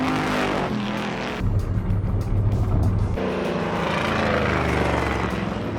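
Loud roaring engines of vintage race cars rush past close by on a speedway track, one after another, with a continuous broad engine drone and no talking.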